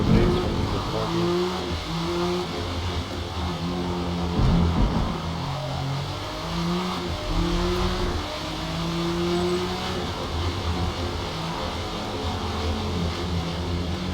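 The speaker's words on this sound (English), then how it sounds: "Pumping the brakes, pumping the throttle." A 2005 Acura ARX race car in Forza Motorsport, racing at Suzuka Circuit in the rain, gives a loud, continuous engine note whose pitch climbs and drops through repeated revs and throttle pumps.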